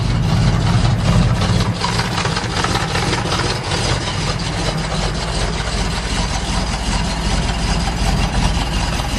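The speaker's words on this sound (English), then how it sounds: "Before, when I didn't rebuild the motor, it'd die out a lot if it would idle cold like this." A rebuilt car engine idles cold with a steady, loud, close rumble and a slightly uneven, shaky rhythm throughout, with no talking.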